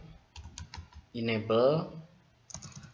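Keystrokes on a computer keyboard entering a command while configuring a Cisco router in Packet Tracer, scattered clicks at the start and end with a stretch of talk in between.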